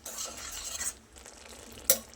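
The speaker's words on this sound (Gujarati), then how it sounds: "હવે એકવાર ફરી બધું સરસ રીતે મિક્સ કરી લઈશું" A spoon stirs a pan of tomato curry with sev, turmeric and garam masala, making soft, wet scraping and faint sizzling. A single sharp clink of metal rings out near the end.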